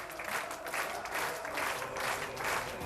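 Applause from a bowling tournament audience runs steadily, with loud rolling bursts of clapping and cheers rising and falling, and a faint voice beneath.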